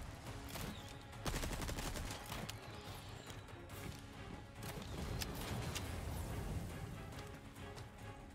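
Rapid volleys of booming cannon fire with crashing impacts in Resident Evil 4: Separate Ways, dense and continuous over a busy background of game effects and music.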